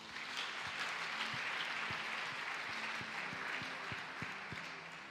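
A congregation at a church service claps to acclaim Jesus Christ, a steady, even applause with sharp individual claps standing out through a full roomy wash.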